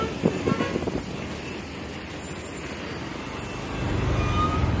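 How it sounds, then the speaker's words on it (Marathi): Congested road traffic in monsoon near Palghar, heard from inside a vehicle edging along behind a Swift: a steady engine and road rumble with a few horn toots, the low drone swelling louder toward the end. "बघू शकता मित्रांनो, थेट वरपर्यंत ट्रॅफिक आहे."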